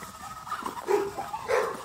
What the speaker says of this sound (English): Dogs are mad, boy. Dogs are mad.